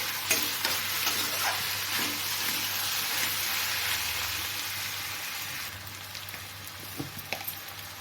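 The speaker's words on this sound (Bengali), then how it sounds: "এই পর্যায়ে আমি এই ভেজে রাখা বড়িগুলো দিয়ে দিব বড়িগুলোও সিদ্ধ হয়ে যাবে শসার জলের সাথে" Fried lentil dumplings (bori) cook with half-fried cucumber in a pan, a continuous even sizzle close by, with a few soft stirring clinks near the end and no voices.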